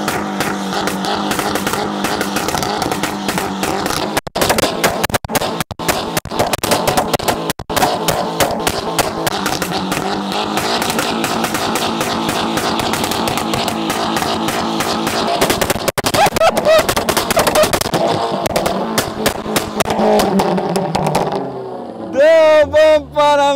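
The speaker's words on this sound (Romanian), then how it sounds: "Vă așteptați ca un Volkswagen sună așa tare?" Volkswagen Bora engine and exhaust blare loud and raw, a dense, harsh drone with rapid crackling pulses throughout, rising into sharp sweeping revs near the end.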